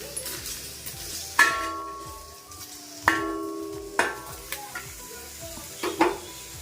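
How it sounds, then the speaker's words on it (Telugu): Ingredients dry-roasting in a pan without oil for a fish curry masala, with a spoon scraping and clinking against the metal pan in a few distinct strokes over a soft, steady background hiss. "ఫ్రెండ్స్ నేను వితౌట్ ఆయిలే వేయించుకుంటున్నాను"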